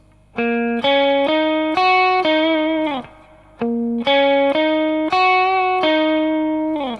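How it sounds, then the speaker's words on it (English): A distorted electric guitar with chorus-like effects plays a repeating riff of sustained notes in two matching phrases, loud and clear with a brief gap between. "there's an extra little riff guitar part in here"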